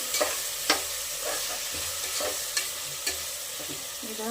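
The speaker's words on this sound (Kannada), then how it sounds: "ಫ್ರೈ ಆಗ್ತಾ ಇದೆ ನಮ್ಮದು" Tomato bath mixture fries in a pan under a continuous sizzle, broken by several sharp spoon taps and scrapes as it is stirred, heard close with no voices.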